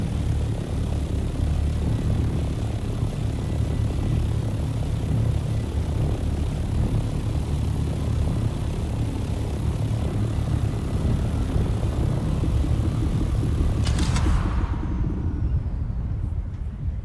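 Steady broadband engine drone of an aircraft hauling spice over the deep desert in the Dune: Awakening video game, a loud continuous hum with a brief brighter swell near the end before the sound drops away.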